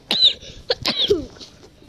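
A person coughs twice in quick succession, close and fairly loud, with a short gap between the coughs.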